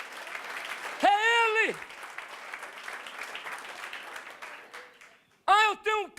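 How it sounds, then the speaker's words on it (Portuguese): A church congregation applauds during a spiritual warfare sermon, a steady patter of clapping running beneath a preacher's loud, sung-out exclamations that open and close the moment. "Pode aplaudir o Senhor, é Ele."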